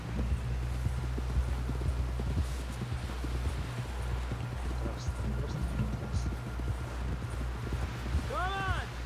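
A horse's hooves clip-clop steadily at a walk in the Red Dead Redemption 2 video game, a close rhythmic patter over a low drone, with brief voices and a short warbling tone near the end.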